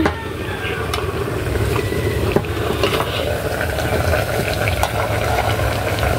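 A pan of squash and moringa balls bubbles and sizzles loudly up close, with steady crackling and spattering as the food cooks at a rolling boil.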